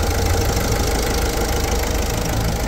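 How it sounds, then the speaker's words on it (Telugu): A 2017 Ford EcoSport Trend+ diesel engine idling, a steady, even mid-low drone with a faint knocking texture, close and continuous without talk. "మీకు ఇంజన్ ఇట్లా ఎంత సైలెంట్గా ఉందో ఒకసారి చూసుకోవచ్చు"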